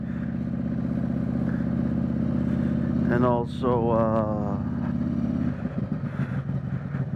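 A 2020 Harley-Davidson Road Glide Special Stage II with an S&S 475 cam idles steadily on a cold day while it warms up, a lumpy low rumble throughout, with someone talking over it for a stretch in the middle.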